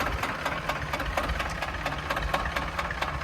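A T25 tractor engine idles nearby with a steady, rapid knocking diesel chug and rattling vibration, running continuously without speech.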